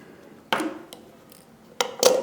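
Jewelry wire trimmed with cutters while making a coiled wire-wrap cabochon pendant: two crisp metallic snips about a second apart, close and fairly loud, with quiet handling in between.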